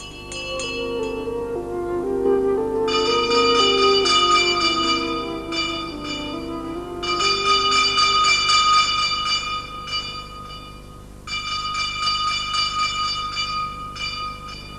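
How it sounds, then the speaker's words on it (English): Bells in Salzburg ring out as signals in repeated clanging bursts separated by short pauses, loud and resonant over a low steady background hum. "Till today, messages are passed on by bell signals."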